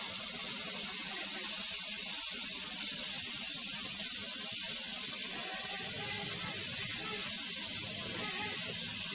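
A VEDA WD 180 dual action airbrush sprays fine lines close up, a steady hissing rush of air that runs unbroken and fairly loud throughout, with no talking.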